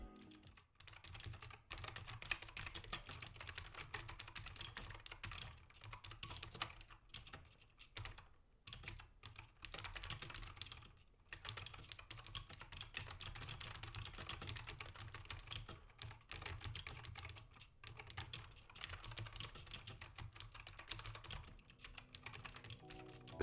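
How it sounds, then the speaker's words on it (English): Quiet but clear typing on a Cooler Master MS120 keyboard with clicky, loud mechanical-style switches like Cherry MX Blue, a rapid run of keystrokes broken by a few short pauses. "This particular solution is very clicky and loud. It reminds me a lot of the Cherry MX Blue switch"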